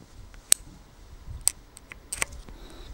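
A key switch on an aLLreLi T9 Plus mechanical gaming keyboard gives several sharp, close clicks, single snaps spaced about a second apart followed by a quick cluster of two or three, with no talking.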